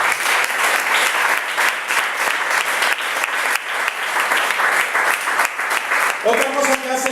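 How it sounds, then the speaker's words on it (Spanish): A church congregation claps vigorously, dense continuous applause filling the room for several seconds, with voices briefly audible near the end. "Fuerte el aplauso a Dios."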